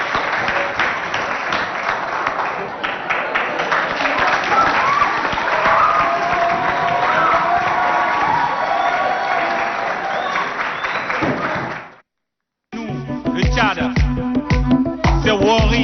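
Audience applause and cheering for students from Lycée Idriss Miskine at a school dance and choreography competition, a loud sustained crowd roar for about twelve seconds, then a brief silence before music begins.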